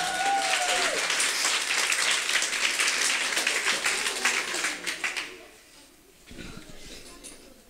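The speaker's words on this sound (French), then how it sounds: "On l'applaudit." A school talent-show audience applauds a student singer, loud dense clapping and cheering that fades out after about five seconds, followed by quieter room sound and talk.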